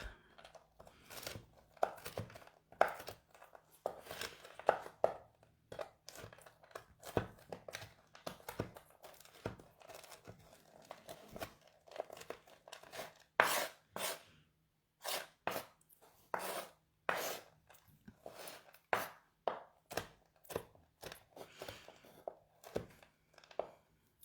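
A knife chops sticky ginger gummy candies on a cutting board, giving irregular bursts of sharp thunks and tacky crunches that come in quick clusters and then pause, fairly close and quiet.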